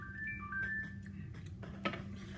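A phone ringtone signals an incoming call: a short high electronic melody of a few tones near the start, followed by a muffled clatter and a sharp knock toward the end in a quiet room.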